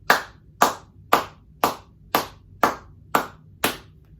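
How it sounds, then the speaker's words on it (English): Eight sharp hand claps in a steady, even beat, about two per second, close and clear with no voices. "Maybe you can just clap that beat with me."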